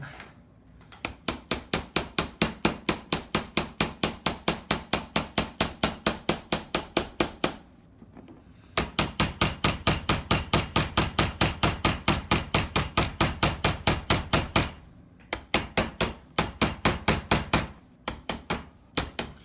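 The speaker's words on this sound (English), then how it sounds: "I really should be using a rubber hammer on this because it is scuffing up that finish" Repeated metal hammer blows on the parts of an airsoft CZ75 SP-01 pistol, a rapid steady rhythm of sharp close knocks in two long runs broken by brief pauses, then a few scattered strikes at the end.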